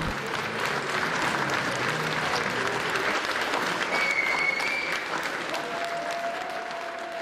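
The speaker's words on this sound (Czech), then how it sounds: "Děti podávaly skvělé výkony, které byly odměněny bouřlivým potleskem diváků." An audience at a school centenary celebration applauds school children's dance and singing performance with loud, sustained, dense clapping that fills the whole stretch, with a few faint tones rising above it.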